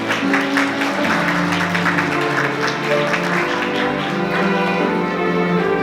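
Wedding guests at a convention-center ceremony applaud in a steady, continuous wash of clapping, loud and sustained with musical tones and voices mixed underneath.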